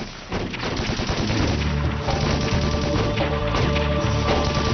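Gunfire in a combat fight erupts in rapid bursts of automatic shots, loud and continuous after a brief quieter start, with no voices.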